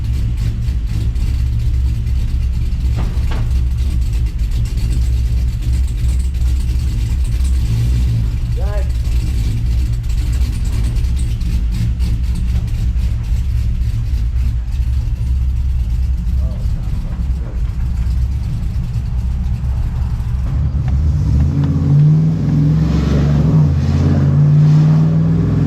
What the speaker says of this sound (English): Sounds really good with this muffler. I'm super happy with the Magnaflow so far.